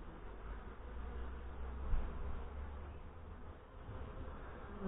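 Honey bees buzz around an open hive during an end-of-season inspection, a faint, steady droning hum that swells slightly at moments, with no talking.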